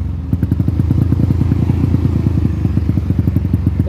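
A Honda Titan motorcycle with a freshly rebuilt engine idles close by with a rapid, even thumping beat, its single-cylinder pulses steady and loud with no one talking.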